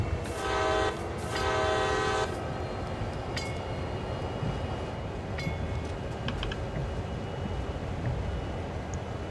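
A train in Train Sim World's Cumberland Yard rumbles steadily along with continuous low mechanical noise, and a horn sounds twice early on, followed by faint clanks and squeals.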